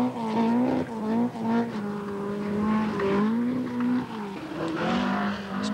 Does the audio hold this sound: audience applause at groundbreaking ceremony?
no